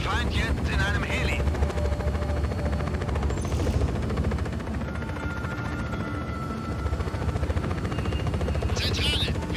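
A helicopter in the video game Just Cause 4 drones steadily with a low rotor throb, mixed with bursts of gunfire and other game effects, while a voice talks over parts of it.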